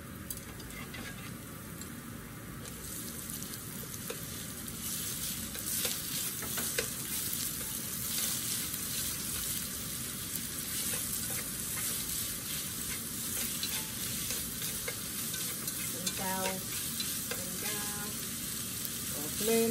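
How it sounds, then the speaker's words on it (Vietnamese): Chives and meat stir-fried in a pan as filling for chive leaf cakes, a steady close sizzle with frequent scraping and clinking from stirring, continuous and moderately loud with no talk. "xào hẹ với thịt nè"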